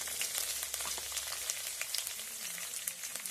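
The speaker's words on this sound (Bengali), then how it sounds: "একটু ভেজে নেব হালকা আছে" Chana and urad dal frying in a pan, a continuous fine crackling sizzle with tiny pops throughout, steady and close.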